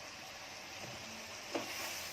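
Ginger garlic paste frying in a pan for prawn pulao, a steady soft sizzle with a brief stir or clink partway through.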